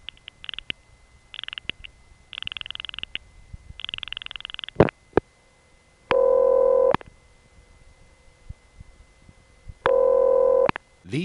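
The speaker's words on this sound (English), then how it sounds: "These ringtones were different from what I had ever heard before." Two short telephone ringback tones on the 780 area code, each a loud steady buzz under a second long, separated by silence after some clicks and dialing sounds.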